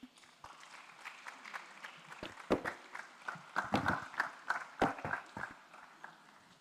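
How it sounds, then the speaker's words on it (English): Scattered, uneven clapping from a small audience after Team F's presentation at a tax summit, starting sparse and building into a brief patter of hand claps with a few louder bursts. "A round of applause for Team F once again."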